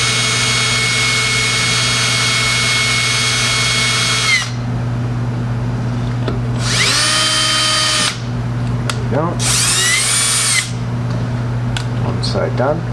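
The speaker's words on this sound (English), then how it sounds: "When you're drilling out rivets" Power drill drilling out rivets on a car dashboard switch, with several loud high-pitched bursts of drilling separated by pauses over a steady engine-like hum, and someone speaking briefly.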